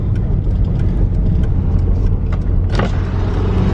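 Drift cars parked at the side of a highway at night, with a steady loud engine and road rumble throughout and a brief sharper burst near the end, no voices.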